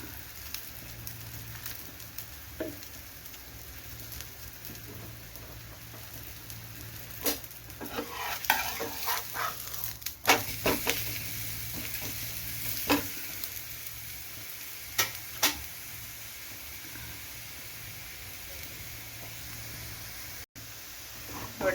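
Ragi roti cooking with oil on a hot griddle gives a low, continuous sizzle, with scattered scraping and tapping as it is handled and flipped. The sound stays close and fairly quiet, with nobody speaking.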